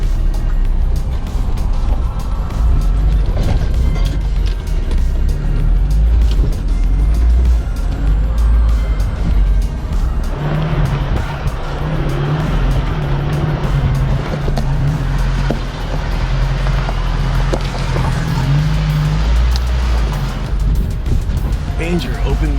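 Suzuki Samurai off-road vehicle driving on a dirt trail near abandoned mine shafts on BLM land, its engine droning steadily and loudly throughout with rough road noise and rattles, while people talk over it.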